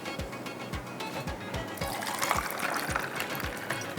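Water pours into a cooking pot with a continuous splashing trickle, loud and close, with a rhythmic low thumping underneath.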